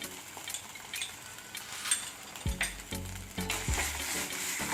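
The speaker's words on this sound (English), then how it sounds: "Let us fry the paste well along with the onions." Ginger garlic and red chili paste frying with onions in a pan, a steady close sizzle with brief stirring bursts, no talking.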